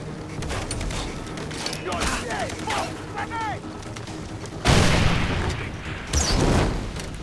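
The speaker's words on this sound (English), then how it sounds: "Stealth explosion." Far Cry 3 gameplay combat, with thudding explosions and bursts of gunfire layered over a continuous rumbling background; two heavy blasts hit near the end, and speech runs beneath the fighting.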